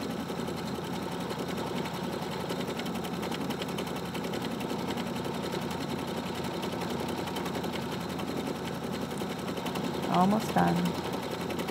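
A sewing machine runs steadily, stitching a decorative quilting pattern with a continuous fast whirring hum, before a brief electronic beep near the end as someone speaks quietly over it.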